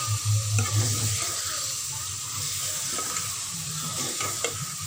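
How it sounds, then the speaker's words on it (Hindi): Chicken pieces fry in a pan for a tomato chicken karahi, giving a steady close sizzle with scraping and stirring noises from a utensil, and no talking. "चिकन को हम अच्छी तरह फ्राई करेंगे ताकि इसका कच्चापन सारा दूर हो जाए।"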